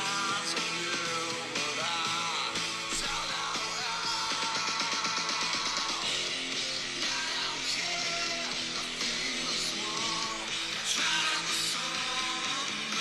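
A dense, loud rock chorus generated by AI, with distorted guitars, drums and yelled vocals running continuously.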